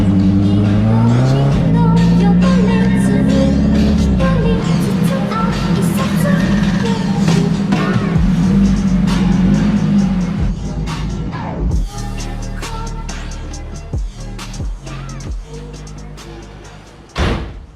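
A Nissan 240SX engine drones loud and close while driving, its pitch climbing and holding for about ten seconds before easing off, followed by scattered knocks, thumps and a door slam near the end.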